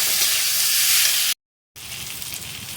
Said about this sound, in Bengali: টমেটোটা দিয়ে একটু ভালো করে ভেজে নেবো